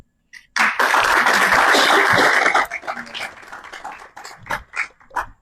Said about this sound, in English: can we give another big round of applause for the sponsors that we've had so far?